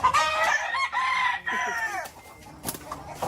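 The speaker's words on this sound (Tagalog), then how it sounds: "May manok, boss." A rooster crows loudly and close by, its call stretched and strained, followed by a few softer clucks from chickens.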